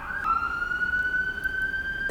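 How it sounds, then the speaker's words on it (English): An emergency vehicle siren sounds nearby as it passes, a sustained, fairly loud wailing tone that rises slightly, heard alone with no voices. "Please hold for the siren."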